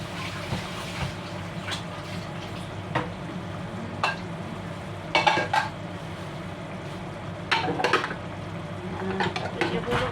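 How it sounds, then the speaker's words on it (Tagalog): Macaroni cooking in a pot gives a soft steady sizzle and simmer, broken by occasional metallic clinks and stirring scrapes of utensils against the cookware. "Ang macaroni po, purok-purok na aking niluluto."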